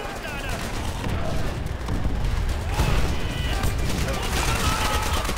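Dense, continuous machine gun fire from Call of Duty: World at War rattles throughout, layered with battlefield explosions and chaotic gunfire textures.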